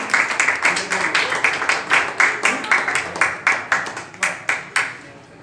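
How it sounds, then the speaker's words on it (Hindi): Scattered, rhythmic hand clapping from a modest audience at a cultural event in Kanpur, applauding a book, with individual sharp claps clearly audible and a few claps trailing off at the end. "एक बार संवेद स्वर में तालियां बजा दीजिए इस पुस्तक"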